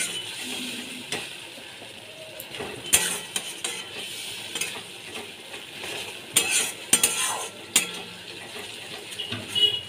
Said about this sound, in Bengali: বাটা মশলা দিয়ে ভালো করে কষিয়ে নিতে হবে।